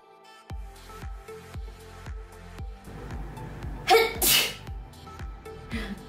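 One sharp, sudden sneeze bursts out loudly partway through, over steady background music with a regular beat.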